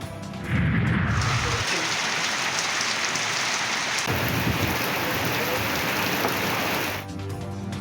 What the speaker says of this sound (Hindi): पंजाब में चंद दिन की गर्मी के बाद मूसलाधार बारिश